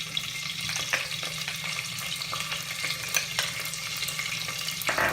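Jeera, curry leaves and green chilies fry in hot oil for sabudana khichdi, crackling and sizzling steadily up close, with occasional sharper pops and stirring scrapes, and no voices.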